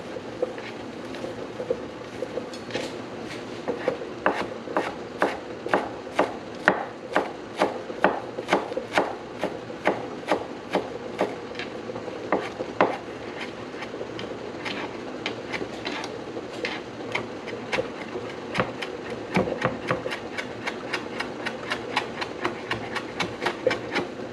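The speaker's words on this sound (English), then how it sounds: "And chop these up." Food being chopped on a board by knife: a long run of quick, sharp, evenly paced knocks, close and clear, continuing steadily with brief pauses.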